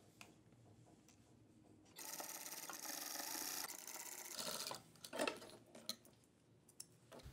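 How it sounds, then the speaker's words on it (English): A sewing machine stitches near the folded edge of fabric for a petal sleeve. It runs in a steady close burst for a couple of seconds, then gives shorter runs and mechanical clicks as the fabric is handled. "Now sew at 1/8 inch in from the fold."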